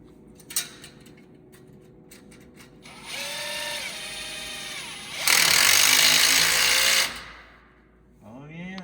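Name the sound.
socket wrench tightening a part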